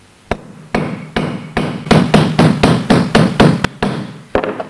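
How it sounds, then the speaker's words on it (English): Steel hammer striking a rivet to crimp it down onto a washer, about a dozen sharp close blows in a steady rhythm, starting lighter and growing firmer, no talking. "Use gentle blows to begin with, and that'll stop it going sideways, but as it crimps down on the washer,"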